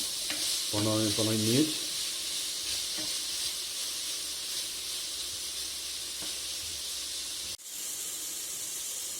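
Chicken pieces browning with turmeric and cumin sizzle and hiss steadily in a hot pan, loud and close throughout; a voice speaks briefly near the start.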